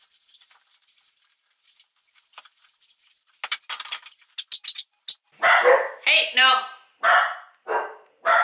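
Several dogs bark in a house, loud and close, in a rapid run of repeated barks through the second half, after quieter patter and clatter.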